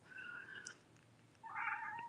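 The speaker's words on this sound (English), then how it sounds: "I might have to get up and catch my little kitty cat." A pet cat meows twice, a short mid-pitched call followed by a longer, louder one, close by in a quiet room.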